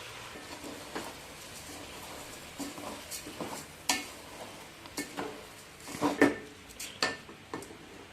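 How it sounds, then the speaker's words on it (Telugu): Mint and soaked rice being fried and stirred in a pot for coconut rice, soft sizzling under intermittent scraping and clinking stirring strokes, close and fairly quiet with no talk. "పుదీనాను కూడా యాడ్ చేసుకున్నాం. ఫ్రై చేసుకున్నాం. అలాగే నానబెట్టుకున్న రైస్ని కూడా యాడ్ చేసుకున్నాం."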